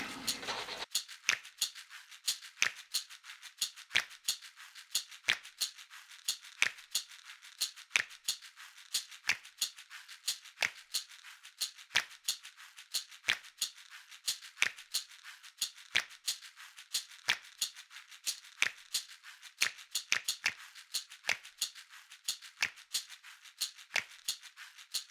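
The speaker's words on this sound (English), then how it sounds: "Now I'm going to cut this out." Scissors snip through paper cutting out a drawing of a two-inch cube, with crisp, rapid clicks repeating steadily and close for the whole stretch, no voices.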